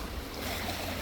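A fast-flowing river in Okjeong, swollen well above its normal level after heavy rain, gives a loud, close, steady rushing roar with no voices.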